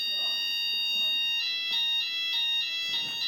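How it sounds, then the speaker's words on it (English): A fire alarm rings in a seminar room, steady high electronic tones persisting throughout at moderate level, with faint pulsed bursts and some background murmur. "Is that the fire alarm?"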